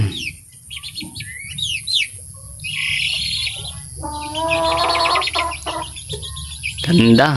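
Chickens cluck and chicks peep nearly nonstop in a backyard flock with a pullet among them, the calls layered and close over a steady background hum.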